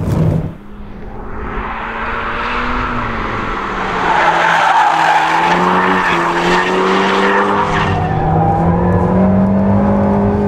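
An Alpine A110 R mid-engine sports car slides with its stability control switched off. Loud, continuous engine drone rises and falls in pitch, with tire scrub and squeal running steadily throughout and no voices.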